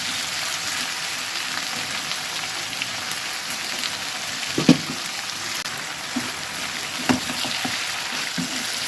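Chicken pieces fry in a pan with fried onion and whole garam masala, giving a steady close sizzle and hiss with a few soft knocks as the meat is turned. No one speaks.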